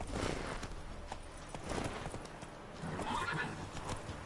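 A horse in The Witcher 3 clops along with rapid hoofbeats and gives a clear whinny, a moderately quiet game sound with a few soft thuds around it.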